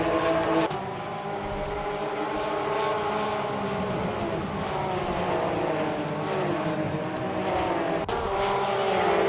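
Race cars roar through a chicane at the Race City circuit in Canada, several engines blending into one loud, steady drone that holds for the whole stretch.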